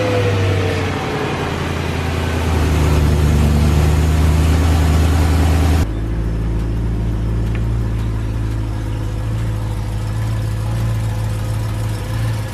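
A BMW E92 M3 engine idles loudly and steadily up close while the car is backed up, with a smooth low drone that briefly rises before settling back to a constant hum.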